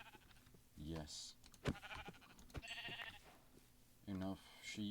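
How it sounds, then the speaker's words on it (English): Sheep in a block-building video game bleat several times in short, wavering bursts, loud and close, with clicks and game noises between them. "I see sheep."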